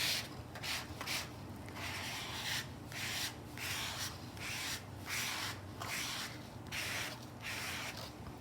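Paint is scraped across a painting surface in a steady back-and-forth rhythm of soft rasping strokes, about a dozen of them, close and fairly quiet, with no talk.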